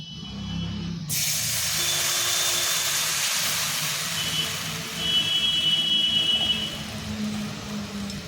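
Sugar syrup of sugar and water coming to a boil in a pot, a continuous broad hissing bubble that holds steady and swells slightly toward the end.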